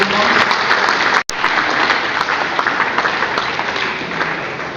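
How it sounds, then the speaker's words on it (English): A crowd claps at a National Blood Donor Day ceremony in Accra, Ghana, steady dense applause broken by a brief dropout, then continuing and slowly tapering. "Let's clap for you."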